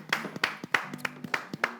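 Several pairs of hands clap at a brisk, steady pace, a short and fairly faint burst of about a dozen sharp claps heard close.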